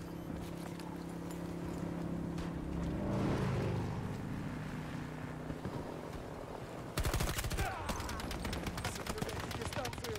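Battlefield 2042 gunfire: a dense game soundscape with a steady rumble, then a rapid burst of automatic fire breaking in near the end and rattling on loudly.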